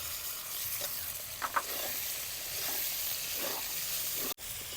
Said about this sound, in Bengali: মশলা ভাজা হয়ে গেছে, কাইটা রাখা টমেটোগুলো দিয়ে দিলাম।